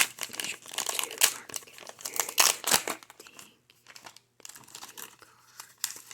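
A pack of baseball cards is torn open, with loud close crinkling and tearing of the foil wrapper in quick bursts, then quieter rustling and shuffling of the cards, with no talking.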